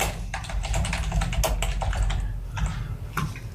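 Rapid typing on a computer keyboard while writing PHP code, with a steady run of close, crisp key clicks that slows into a few scattered taps near the end.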